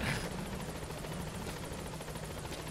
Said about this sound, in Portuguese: Esperar o helicóptero chegar.